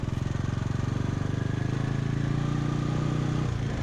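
A Motobécane Z56C moped engine runs at a steady idle nearby, a fast, even putter of rapid small-engine firing pulses with a slight mechanical clatter, continuous throughout with no talking.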